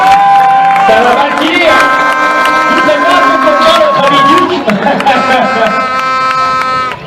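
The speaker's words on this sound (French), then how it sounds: "faites du bruit, c'est maintenant qu'il faut les applaudir" Loud crowd at a Bol d'or motorcycle endurance race, with cheering, whoops and shouts over scattered applause, plus sustained tonal horn-like blares running throughout and people talking nearby.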